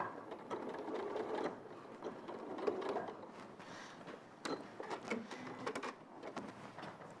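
Domestic sewing machine running at a steady pace with needle cut function, stitching continuously up close with brief pauses and shifts in speed, mechanical whirring and clicking throughout.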